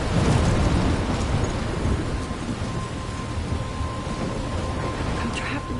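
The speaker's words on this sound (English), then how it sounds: "I'm trapped in a storm?" A heavy thunderstorm roars throughout, with dense rain pouring and low rumbling thunder filling the whole stretch at a loud, steady level.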